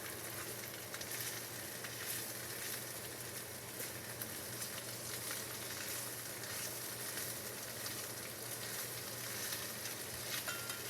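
Potatoes fried in a pan with onions and sausage give a steady, soft sizzle, with faint stirring scrapes throughout and no voices.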